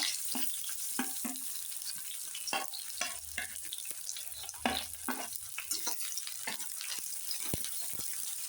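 Chopped onion with whole spices sizzles and crackles in a pan over a low gas flame for spinach rice, the steady frying hiss broken by repeated scrapes and stirs of a spoon, close and alone with no talk.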